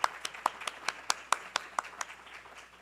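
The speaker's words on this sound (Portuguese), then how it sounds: "vamos receber com um aplauso" Sparse clapping from a small seminar audience, about a dozen distinct claps at an even, unhurried pace that gradually fade toward the end.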